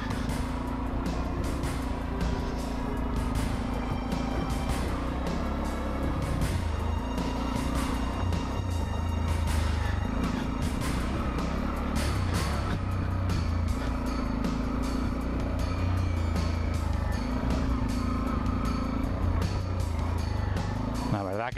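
Macbor Montana XR1 125cc motorcycle ridden off-road on a technical trail, its engine droning steadily and loud throughout with rough, bumpy fluctuations, alongside the rider's voice.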